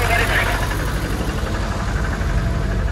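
A large multi-axle truck's diesel engine idles loudly and steadily with a deep low rumble. Someone talks over it.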